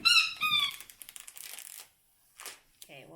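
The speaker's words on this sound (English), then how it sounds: "you're going to hear dogs squeaking toys" Dog squeezing a squeaky toy indoors, a few sharp high squeaks near the start and again at the end, with a person talking over and between them.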